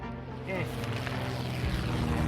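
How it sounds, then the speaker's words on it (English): Plane engines in the survival video game 60 Seconds give a steady, droning roar with propeller-like tonal hum, rising slightly in loudness after the first half second and holding near and continuous to the end. "We were lucky to get it fixed just in time to hear the distant roar of the plane's engines."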